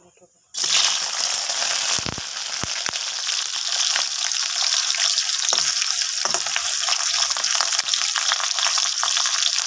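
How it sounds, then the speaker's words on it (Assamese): Potatoes hit hot oil in a wok with a sudden loud sizzle that keeps going as a steady, dense crackle, with a few clinks of stirring; no speech over it. "তেলখিনি গৰম হোৱাত মই আলুখিনি প্ৰথমে ফ্ৰাই কৰি ল'ম।"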